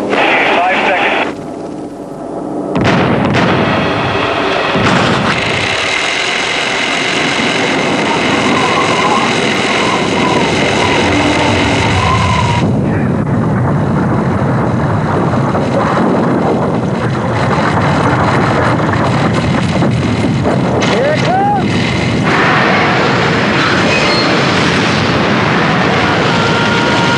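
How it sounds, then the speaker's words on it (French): Explosion and action effects from a film trailer shown on French TV in 2001, a dense, loud rumbling mix of blasts and roaring noise with brief quieter gaps, layered under a voice and music. "25 seconds before the explosion."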